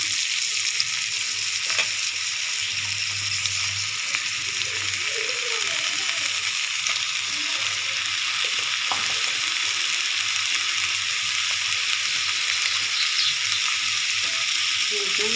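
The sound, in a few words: bottle gourd greens poured into pan with potatoes, frying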